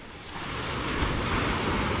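Sea waves heard from a wooden fishing boat just after a storm: a dense, close wash of surf and water noise rising slightly over two seconds, mixed with wind buffeting the microphone.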